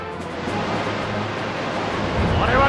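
A surging wave-like wash of broadband noise from the Surf water attack in Pokémon Stadium Gold and Silver, steady and loud throughout and swelling slightly near the end, with a faint voice underneath.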